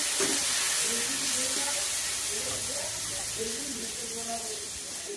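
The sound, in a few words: bitter gourd (karela) frying crispy in oil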